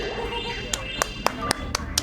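One person claps alone at a speedrun marathon event, about six sharp, evenly spaced claps in a steady rhythm over a quiet background hum.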